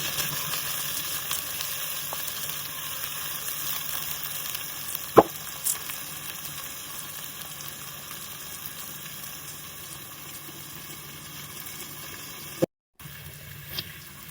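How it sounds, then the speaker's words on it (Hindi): Onions frying in a pan, a soft, steady sizzle throughout with a couple of sharp clicks from a utensil, fairly quiet and uninterrupted by talk. "अब मैं प्याज को भून दूंगी"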